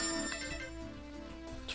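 A mobile phone ringtone plays quietly in a room, a short run of tonal electronic notes over a low background hum, with no voices.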